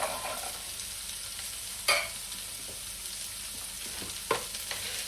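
Masala with carrot and peas frying in a pan, a steady close sizzle throughout with a couple of sharp scrapes of a spoon stirring, no voices.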